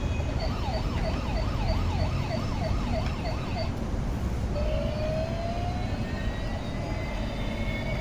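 An electronic toy helicopter's siren wails up and down in a steady rapid warble, then shifts to a rising tone, over continuous whirring motor noise.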